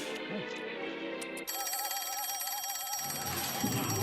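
A telephone rings in a dubbed cartoon, a bright trilling bell tone that cuts in abruptly partway through and keeps ringing loudly after a moment of quieter background.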